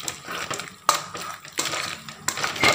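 Cooked jackfruit being mashed in a pot, with repeated scraping and clinking of a utensil against metal in short, close bursts and brief pauses between strokes.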